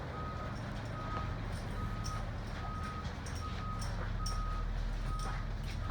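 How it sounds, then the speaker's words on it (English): School bus reverse beeper sounding a steady series of evenly spaced, moderately loud electronic beeps over a constant idling engine rumble in a bus yard. "I want to make sure I can hear my reverse beeper"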